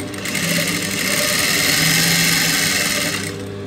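A sewing machine stitches piping onto fabric, a close, loud, continuous mechanical whir that starts and stops after about three seconds, with no talking.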